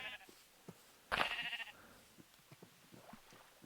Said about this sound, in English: Sheep! Help,